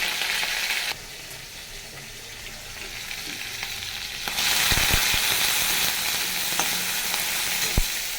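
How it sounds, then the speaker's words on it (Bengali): Prawns dropped into hot oil tempered with bay leaf, cumin and dried red chilli, a steady sizzle that swells into a louder, denser fry halfway through, with a few sharp crackles and pops near the end. "একসঙ্গে আমি দিয়ে দিচ্ছি চিংড়ি মাছ।"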